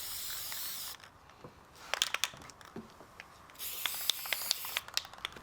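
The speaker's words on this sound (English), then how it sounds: "Then I'll hit everything else with a couple coats of lacquer." Lacquer sprayed from an aerosol can onto wooden game pieces for Three Men's Morris, heard as two sustained hissing bursts separated by a quieter gap, with small clicks and knocks between them, close and moderately loud.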